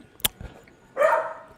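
A dog barks in a home, a sharp close yelp followed by a longer, louder whining bark, with quiet room sound between.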